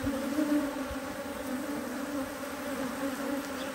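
Honeybees buzzing steadily at an open hive during an inspection, a close, continuous hum with no voices.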